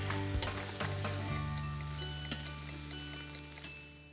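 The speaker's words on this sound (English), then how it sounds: "I'm going to saute the onions and peppers." Onions and peppers sauté in a multicooker, giving a soft steady sizzle with scattered light ticks and clicks of stirring, close by and fairly quiet under a faint electrical hum.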